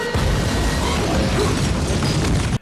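A big fiery explosion from the 2011 film The Thing, set off when leaking fuel reaches a flame, roars as a loud sustained blast and rumble that fills the whole stretch.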